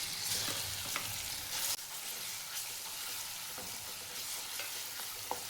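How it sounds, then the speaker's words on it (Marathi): Green chili paste fries in hot oil in a kadhai, a steady dense sizzle with occasional crackles and scraping stirs, continuous and close with no voices. "तेल गरम झाले, मिरचीचं वाटण टाकायचं आहे."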